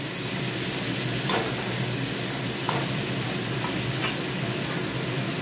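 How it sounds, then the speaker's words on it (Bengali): Ginger spice paste stirred and sautéed in hot oil, a steady close sizzle and frying hiss with a few sharp scrapes of the spoon against the pan. "আদাটা বেটে নিয়ে আদা দিয়ে একটু কষে তারপরে তেল ছেড়ে দিলে"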